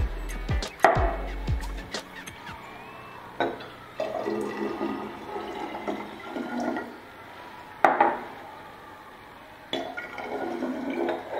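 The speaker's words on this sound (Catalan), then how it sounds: "A la dissolució afegirem 450 ml d'aigua." Water is poured into a chemiluminescence solution of bleach, sodium hydroxide and luminol in a school chemistry demonstration, making a few separate splashy, gurgling bursts at close range with quieter gaps between them.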